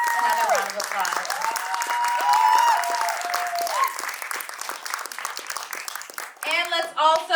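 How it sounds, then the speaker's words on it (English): A festival audience claps in sustained, dense applause with a few cheers, while a voice speaks over it and the clapping swells again near the end. "Let's give King Alvarado another round of applause."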